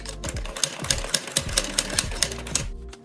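A sewing machine stitches a cord-trimmed neckline in a quick, steady mechanical clatter of needle strokes, close and loud, slowing and stopping just before the end.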